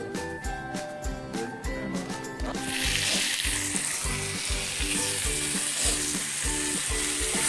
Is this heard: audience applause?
no